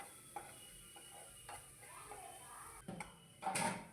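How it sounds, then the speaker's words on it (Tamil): A spoon stirs an onion and tomato mixture in a frying pan over medium flame, giving soft sizzling with scattered scrapes and a few clinks of metal, quiet and close, ending in a brighter clatter. "இப்போ மீடியம் ஃப்ளேமுக்கு மாற்றிட்டு தக்காளி வதங்குற அளவுக்கு நல்லா கலந்து விட்டுருங்க"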